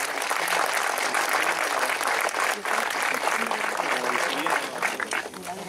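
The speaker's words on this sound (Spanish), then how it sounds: "Un aplauso para todos ellos," An audience at a 60th-anniversary event for the Moro de Cumpas horse race in Agua Prieta, Sonora, claps in a sustained, dense burst of applause that fills the whole stretch at steady loudness.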